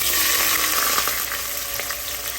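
Mutton makdood with garam masala and onion frying in a pan, giving a loud, steady, close sizzle with a few soft stirring scrapes and no voices.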